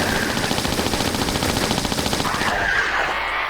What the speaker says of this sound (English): I want to try and use my Uzis on these